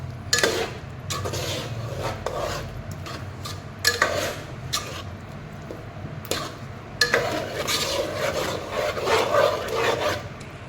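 Desi corn cob curry being stirred in a pan in a home kitchen, with a spoon scraping and rubbing against the metal in repeated uneven strokes, close and moderately loud with no talking.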